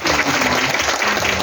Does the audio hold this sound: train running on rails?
no